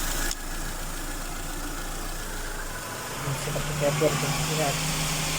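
A Mitsubishi Lancer engine idles at operating temperature with a steady low rumble and whirring radiator fan that has switched on automatically, while a voice speaks over it.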